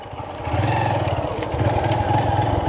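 A motorcycle engine idles and then revs up close by, a loud steady throbbing putter that rises and wavers briefly.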